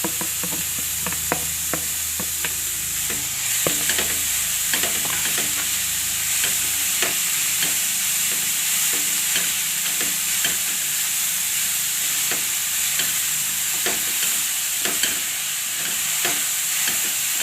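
Vegetable filling for veg momos, with ginger, chillies, green garlic and coriander, sautés in a pan: a continuous close sizzle under repeated rhythmic stirring scrapes of a spoon, with no talking.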